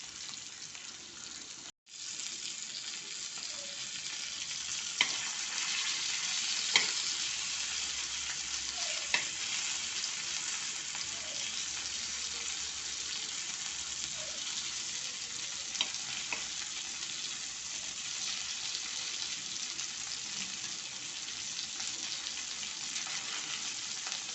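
Pomfret shallow-frying in a little oil in a pan, a steady dense sizzle running throughout with occasional soft clicks and one brief dropout near the start, no voices.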